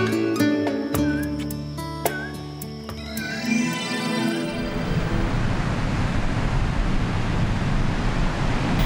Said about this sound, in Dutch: De golven en de zee spelen een belangrijke rol in het leven van Henk.